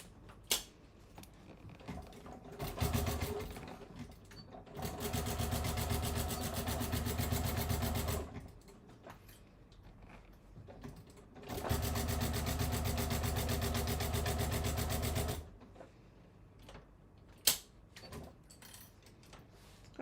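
Domestic sewing machine stitching fabric in two bursts of steady rapid needle chatter, separated by quiet handling noises of the cloth being adjusted, faint and close.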